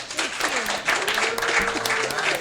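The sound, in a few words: audience applause welcoming Dr. Khalilah Ali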